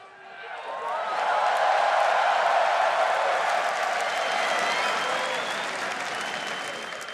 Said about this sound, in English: And everybody cheering you here.